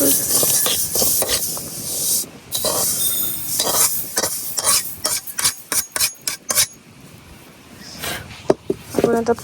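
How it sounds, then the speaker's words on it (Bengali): Peanuts and flax seeds dry roasting in a pan, stirred with repeated sharp scraping and rattling strokes in quick bursts over a faint hiss, close up. "তো আমার বাদাম তিসি এগুলা ভাজা হয়ে গেছে"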